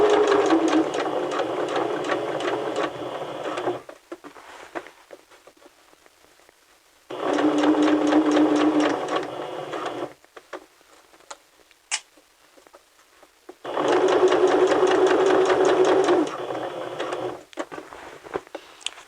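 A sewing machine stitches fabric along a seam in three loud, steady bursts of rapid needle chatter, each several seconds long. Quieter pauses with faint ticking separate the bursts, and no one speaks.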